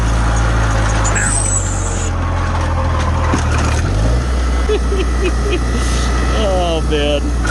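A Farmall Cub tractor stuck in third gear plowing heavy blizzard snow, its engine droning loudly and shifting pitch, with wind noise and a person talking over it.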